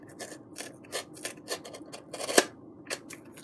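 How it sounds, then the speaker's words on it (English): Scissors snip along the edge of a foamboard glider piece, a series of short crisp cuts and rasping slides in an irregular rhythm, close and fairly quiet. "So we're just gonna trim down"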